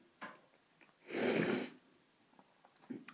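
A single strong nasal sniff of Hedges L260, a moist medium-ground English snuff, lasting about half a second, close and clear, with faint small rustles before and after.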